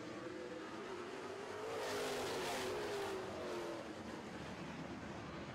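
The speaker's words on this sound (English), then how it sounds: "Green flag is waving, and we are racing in the Super Trucks" Super Trucks race just after the green flag, several engines roaring and revving at a steady distance, swelling as a pack passes and then easing back.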